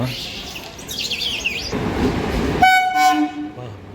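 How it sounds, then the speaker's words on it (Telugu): A train pulls into the neighbouring platform at a busy station, its horn sounding as a steady tone with harmonics, over rumbling wheels and station bustle with faint bird chirps. "ఏదో ట్రైన్ అయితే వస్తుంది పక్క ప్లాట్ఫామ్లో ఏ ట్రైన్"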